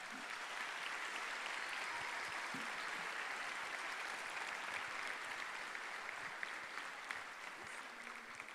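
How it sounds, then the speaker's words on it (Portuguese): A church congregation at a worship service applauds steadily and evenly throughout, a continuous wash of clapping heard from some distance. "Vamos aplaudir a vida dele."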